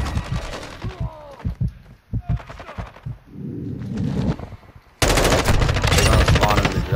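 Rapid automatic gunfire from an M4 rifle in the video game Modern Warfare 2, on the Shoot House map. Scattered bursts come first, then a loud sustained barrage.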